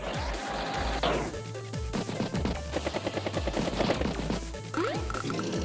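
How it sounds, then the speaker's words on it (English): Tank attacking another tank in the Advance Wars game, a dense burst of rapid gunfire-like shots and crashing impacts over a steady music bed, loud and continuous for several seconds. "Tank will strike tank."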